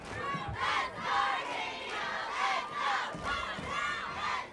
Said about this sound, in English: We got the crowd cheering for our team right now